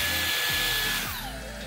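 Dyson Airstrait hair dryer straightener switched on, a steady close whirring blower rush with a motor whine that shifts in pitch, no talk.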